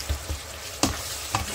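A bean and salted fish stew is stirred in a pot with a utensil, giving a few soft knocks and scrapes over a low bubbling sizzle.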